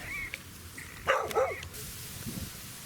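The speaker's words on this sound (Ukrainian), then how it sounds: "Бісові собаки бездомні дістали." Stray dogs barking outdoors at a snowy fishing spot, a short burst of two or three sharp barks at moderate distance over steady background hiss.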